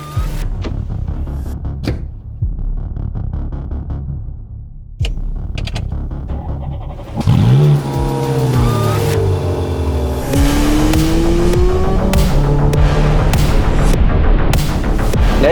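A Ferrari F430 Scuderia engine, 510 horsepower at 8500 rpm, roars loudly, revving and accelerating hard through rising gear changes, close and powerful after a quieter idle at the start.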